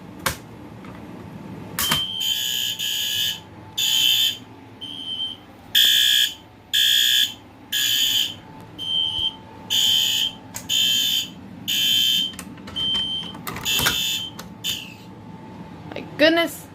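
A BG-12 pull station sets off a loud fire alarm on a wall system, with repeated piercing electronic horn blasts in an even on-off rhythm and a steady background tone between them.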